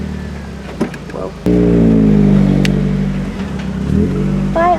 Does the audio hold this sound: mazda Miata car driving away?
yes